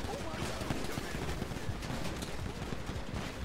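Rapid gunfire in GTA roleplay sounds as dense, continuous crackling bursts from many guns at once, with voices mixed in.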